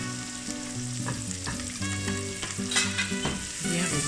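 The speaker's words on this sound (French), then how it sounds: "Maintenant, il est temps d'ajouter nos oignons." Onions fry in butter in a pan with a steady, bright sizzle and crackle that continues throughout, with occasional stirring clatter and no talking.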